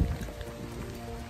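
Rain falls steadily on a flooded campsite, making a dense, continuous patter that stays close and even throughout the short stretch.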